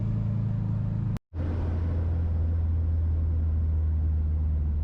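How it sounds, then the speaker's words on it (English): A camper van's engine labours up a steep hill in second gear, a low, steady rumbling drone broken by a brief dropout near the start, then continuing unchanged and moderately loud. "it's getting steep when we're in second and we're still chugging along"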